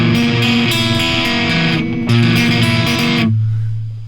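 Distorted electric guitar running repeatedly on a chord, a dense, loud crunchy strummed run that stops briefly then resumes, ending in a low ringing note.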